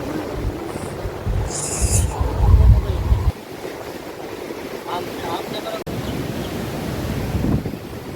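Sea waves at the seashore, with a continuous roar of surf and heavy wind buffeting the microphone, strongest in the first few seconds, then a steadier wash of water; no clear speech is heard.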